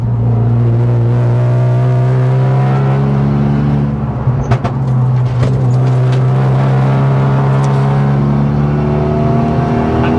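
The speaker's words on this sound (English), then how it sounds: "I'll just hold third gear here, lift off, a few bangs there" A modified Renault Megane RS held in third gear on a track, its engine droning steadily and loud throughout, with a few sharp exhaust bangs popping through mid-way as the throttle lifts off.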